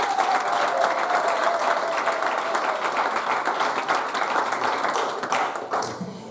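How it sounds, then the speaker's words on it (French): Church congregation applauding during a wedding ceremony in Gatineau, a steady dense wash of many hands clapping at full strength, tapering slightly toward the end. "on applaudit pour la gloire de l'Éternel."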